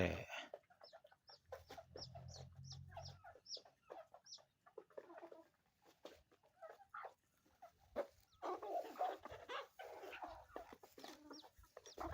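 Bantam chickens cluck repeatedly in short bursts while being fed rice, with other farmyard calls and a low hum nearby; the clucking continues through the clip.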